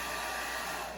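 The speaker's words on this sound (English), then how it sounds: "So you don't want your blow dryer super hot because you can scorch your hair." A hair blow dryer blasting steady, even airflow while drying hair, a constant loud whoosh with no talking.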